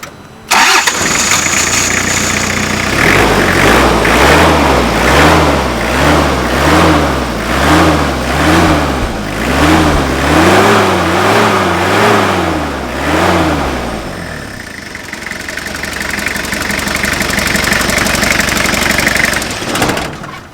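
A Toyota Hilux Mighty-X pickup's diesel engine cranks, starts and revs up and down several times, then settles into a loud, steady idle close by.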